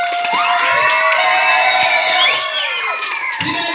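Excited children cheer and shout together at an aquarium-making workshop, a dense chorus of high voices carrying on for several seconds with little clapping audible.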